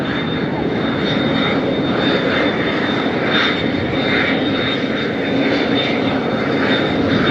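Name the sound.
jet airliner engines on takeoff roll in crosswind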